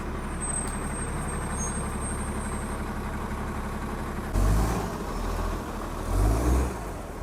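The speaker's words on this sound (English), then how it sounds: "So these are some 9:35 buses coming through at Jane and Bloor." Toronto city buses rolling through the Jane and Bloor intersection, a steady traffic rumble with two heavier low engine swells as buses pass near, plus a brief high hiss early on like an air brake.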